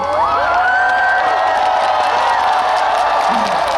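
Festival crowd cheering and shouting at an outdoor celebration concert in Hwaseong, a loud continuous roar of many voices with whoops rising above it, close and sustained throughout.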